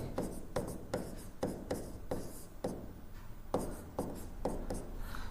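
Chalk or pen writing on a board during a physics lecture, a quick series of scratchy strokes and taps at close range with no talking.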